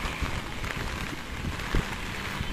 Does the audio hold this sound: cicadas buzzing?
no